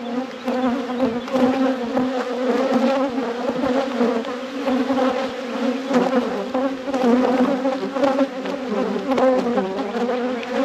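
Honeybees swarm around an opened deep hive during a post-winter inspection, making a dense, continuous close-up buzz that rises and falls slightly as individual bees pass near, with no voices.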